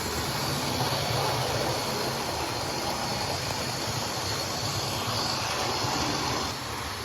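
Model locomotive hauling a heavier load of wagons around a layout, a steady close rumble and hiss of running gear continuing throughout without pause.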